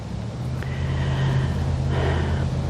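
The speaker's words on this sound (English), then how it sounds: "there's a truck driving in the distance" A truck drives on a park road in the distance, beyond the woods, heard as a steady low rumble that grows a little louder and holds, with faint breathy noise up close.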